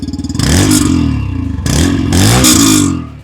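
A Yamaha FZ V3 motorcycle engine revs hard twice from idle, loud and close, each throttle blip rising in pitch and holding before falling back, with no talk over it.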